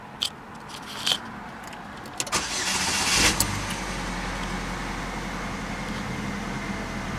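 A 2009 Pontiac G6 with 74,000 miles cranks briefly after a few faint clicks, fires up and settles into a steady, close idle that runs alone to the end.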